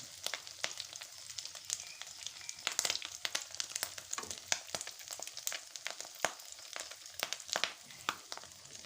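Egg-dipped khanom khiang fries in hot oil, a steady close crackling sizzle with frequent sharp pops throughout and no talking.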